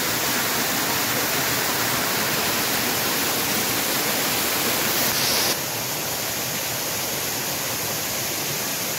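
Sinti waterfall near Sauraha roaring as a dense, steady wash of falling water, close and loud, unbroken for the whole stretch.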